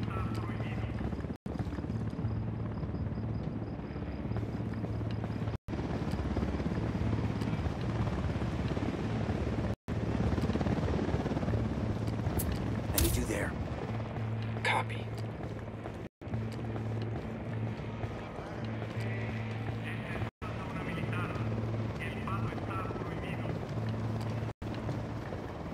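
Helicopter rotor thumping steadily through a Ghost Recon Wildlands mission, a continuous low drone with banded hum, joined by intermittent gunfire-like bursts and short bangs, with voices talking over it.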